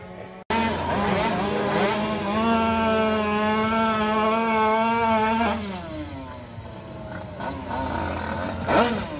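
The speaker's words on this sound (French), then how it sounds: "la moto rouge et notre 90 BRK qui vont nous gratifier d'un superbe départ en wheeling" A drag-racing motorcycle engine roars loud and close, its pitch climbing steadily as it launches in a wheelie, then falling away as it speeds off.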